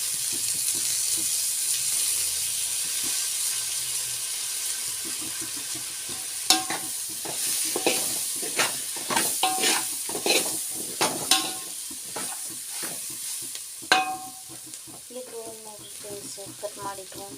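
Soaked soybeans and vegetables for a pulao fry in a pan over a low gas flame, a soft steady sizzle broken by repeated stirring scrapes and clatters, with no talk.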